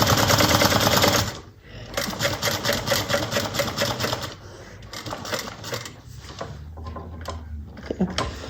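A sewing machine stitches across the short edge of fabric for a bucket bag, a loud rapid mechanical chatter that pauses briefly, then resumes in bursts and grows softer toward the end.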